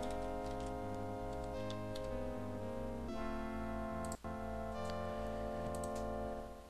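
Clock tower in the adventure game Death Gate ticking in a steady, regular tick-tock over a looping game music bed, moderately loud and continuous throughout, with a brief break near the middle.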